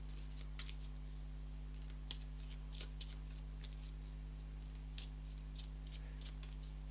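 Deck of game cards for a tabletop combat game being shuffled, faint soft riffling and flicking bursts scattered over a steady low electrical hum.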